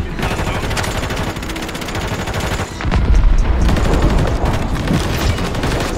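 Dense, rapid gunfire from a first-person shooter video game with a Reclaimer 18 weapon fills the whole stretch, loud and continuous, with a heavier burst midway.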